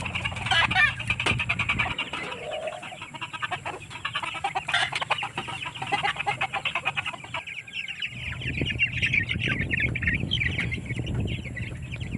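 A chicken recovering from a cold clucks and calls repeatedly in a busy farmyard, with other birds chirping and steady background noise throughout.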